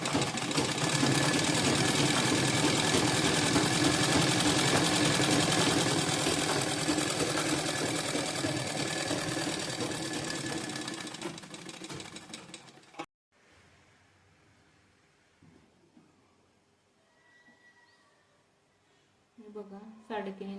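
A sewing machine runs steadily and loud, topstitching a folded hem along the edge of a shirt sleeve, then stops at about 13 seconds; quiet handling noises and a faint voice follow.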